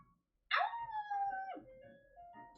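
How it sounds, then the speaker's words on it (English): A pet dog in the video game Love and Deepspace lets out a single long, clear howl that slides gradually downward and then rises slightly at the end, close and loud with no talk over it. "He's just a regular pet dog."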